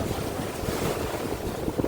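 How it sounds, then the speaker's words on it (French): Strong ocean waves break against the rocky west coast near Sagres, a steady, close, loud roar of surf mixed with gusty wind buffeting, with no voices. "les vagues, elles sont costauds quand même"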